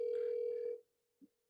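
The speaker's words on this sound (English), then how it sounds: "Tell me if you can hear the ringing" A steady electronic phone tone rings for under a second, then stops, followed by a brief soft blip; fairly quiet with no talking.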